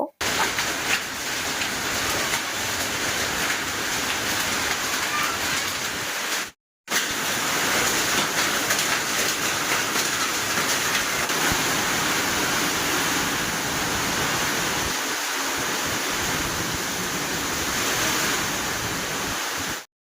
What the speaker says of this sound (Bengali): বারান্দার মধ্যে সেইভাবে ছোট ছোট শিল পড়তেছে